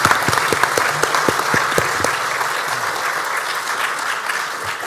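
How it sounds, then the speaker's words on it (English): An audience at a Minecraft modding panel at PAX East 2016 bursts into loud applause, opening with a few sharp individual claps before settling into a sustained, even wash of clapping. "Lex and CPW deserve a really big round of applause"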